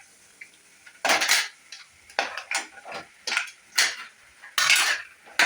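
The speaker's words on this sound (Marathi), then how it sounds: "चांगलं परतून घ्यायचं." Mixed vegetables with brinjal, turmeric and masala stirred in a pan, a spoon clattering and scraping against metal in loud, irregular strokes with quiet gaps between them.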